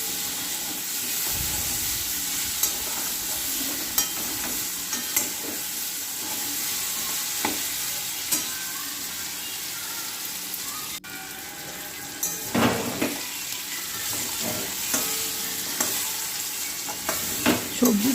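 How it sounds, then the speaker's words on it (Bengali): Telakucha (ivy gourd) greens frying in a pan give a steady, close sizzle throughout, broken by louder scraping stirs around the middle and toward the end. "সবজিটাকে একটু ভালো করে ভেজে নিতে হবে বন্ধুরা"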